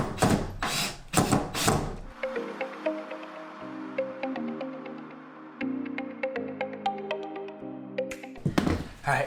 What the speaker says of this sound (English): we're going to just basically screw in the bottom of the plywood and keep that in place so it doesn't move